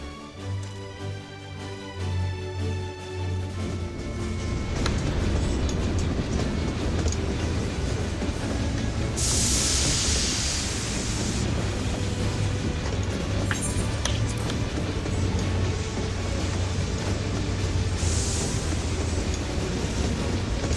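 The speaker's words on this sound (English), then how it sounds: "A cerulean train." A cerulean train pulls in within the Final Fantasy XIV Dawntrail game, its steady rolling rumble and clickety-clack of wagons loud and continuous, with bursts of hissing brakes or steam and metallic clinks along the way.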